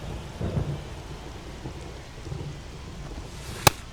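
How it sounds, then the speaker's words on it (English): Rain falls steadily during a rain-soaked baseball game in MLB The Show 24, a soft continuous hiss with low rumbles of thunder and a sharp crack near the end, no talking. "This rain is not letting up."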